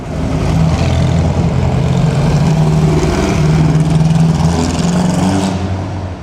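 A supercharged vintage car engine at the 2007 Mille Miglia in Italy revs loudly and close by, its engine note droning and shifting in pitch before fading slightly at the end.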